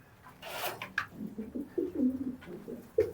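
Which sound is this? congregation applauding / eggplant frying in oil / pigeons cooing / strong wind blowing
pigeons cooing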